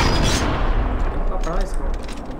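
A sniper rifle shot in Sniper Elite 4 lands as a loud, booming crack with a rolling echo, followed by a tail of rumbling game ambience and short sharper clicks.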